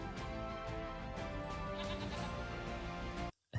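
Goats bleating in the farming game Farming Simulator 25 on the Hutan Pantai Asian map: a continuous, overlapping chorus of livestock cries that stops abruptly near the end.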